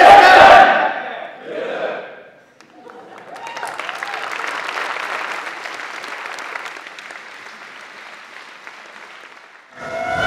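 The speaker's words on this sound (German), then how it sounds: "Also möchte ich in diesem Sinne das ganze Team bitten, mit unserem Schlachtruf unser neuestes Äpfelrace-Mitglied zu begrüßen." A team yells its battle cry at the rollout presentation of its new EFR08e racing car: a loud group shout, then a long roar of cheering and applause that fades before another burst at the end.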